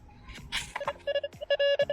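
A metal detector sweeping a beach gives off a run of short, bright electronic beeps in quick succession, a pulsing tone sequence heard close up with no voices.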